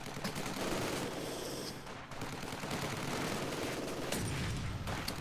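Heavy machine gun fire in the WWII strategy game Company of Heroes 2, sustained rattling bursts mixed with other battle gunfire, dense and continuous at moderate loudness.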